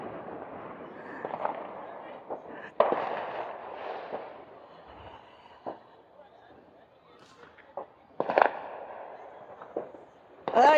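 New Year fireworks pop and crack at a distance, scattered sharp bursts at irregular intervals with a few louder bangs near the end, under background voices.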